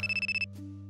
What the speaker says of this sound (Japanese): 目覚まし鳴るの早いでしょ。